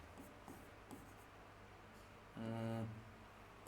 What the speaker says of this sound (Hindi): वापस लिखता हूं